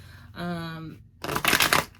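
A short voiced sound is followed by a burst of tarot cards being shuffled, a brief dense riffle close by.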